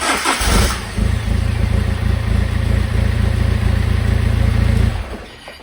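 BMW E46 320d with the M47 diesel engine turns over and catches almost immediately, then settles into a loud, steady low diesel idle before shutting off near the end.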